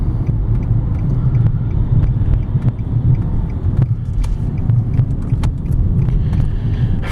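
A 2009 Nissan Altima Hybrid rolls through a right turn, its cabin filled with a steady low road rumble and muffled tire noise, with occasional light clicks and rattles inside.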